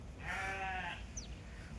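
A sheep bleats once in a desert, a wavering, moderately distant call lasting under a second. A faint higher cry follows, over steady low wind-like background noise.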